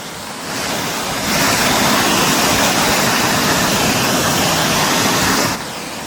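Water from Nohkalikai Falls near Cherrapunji rushes in a loud, continuous roar mixed with wind buffeting. It swells after the first second and eases slightly at the very end.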